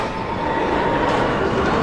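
Goliath roller coaster train running: a steady, loud rumbling roar with faint rail clatter, close and continuous, with no voices.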